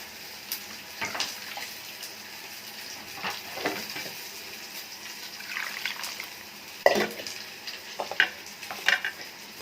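Spices crackle and sizzle in hot coconut oil in short bursts, with occasional sharper pops and stirring scrapes, close and moderately loud.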